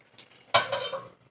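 A spoon stirs bottle gourd curry in a cooking pot in one brief, close burst of scraping and clinking against the metal, with a soft wet shuffle fading out afterward.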